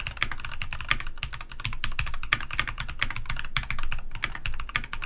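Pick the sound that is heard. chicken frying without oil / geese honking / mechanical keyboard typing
mechanical keyboard typing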